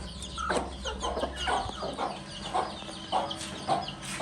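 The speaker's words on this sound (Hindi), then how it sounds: "अब ये मुर्गी है" A hen clucks in a series of short, repeated calls in a farmyard coop, with a steady rhythm and moderate loudness close by.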